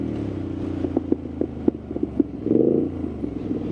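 Triumph Street Scrambler 900 motorcycle engine cackling and popping while cruising at easy speed, a low steady rumble broken by sharp irregular crackles, then a brief swell of revs near the end.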